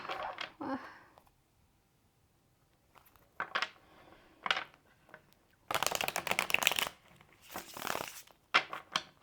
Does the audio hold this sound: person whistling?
no